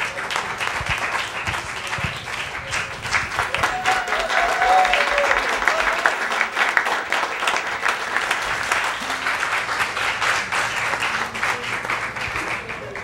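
A large crowd at a live Haitian music show applauding loudly, dense sustained clapping that swells in the middle and carries on for the whole stretch, with some shouts mixed in.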